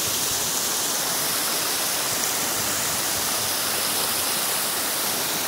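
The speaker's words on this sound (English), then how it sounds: "I'm gonna try and get the picture of the waterfall." A waterfall on Oahu roars as a steady, loud, broadband rush of falling water, constant and unbroken with no voices.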